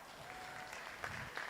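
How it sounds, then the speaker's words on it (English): Applause from spectators at a long course swimming championship, a steady patter of clapping that sounds fairly distant and moderately quiet, with a faint voice under it. "please give a big round of applause for our technical director, Jane Howe,"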